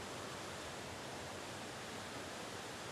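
White water in a river rushes in a dense, unbroken roar, loud and steady throughout with no other sounds.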